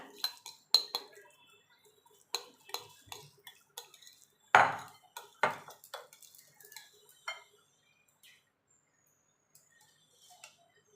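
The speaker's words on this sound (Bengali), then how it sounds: "এখানে আমি টক দই আগের থেকে জল ঝরিয়ে রেখেছি, সেটাকে ভালো করে ফেটিয়ে নেব।" Strained sour yogurt is beaten in a bowl for mango doi, with a spoon or whisk giving quick, irregular clinks and taps against the bowl, close and fairly quiet, thinning out into near silence toward the end.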